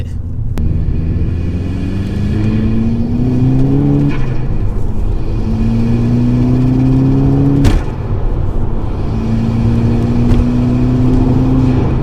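A 300 bhp Stage 1 VW Golf GTI Edition 30 pulls hard in fourth gear, its loud engine note climbing steadily with two brief breaks where the pitch drops and resumes rising.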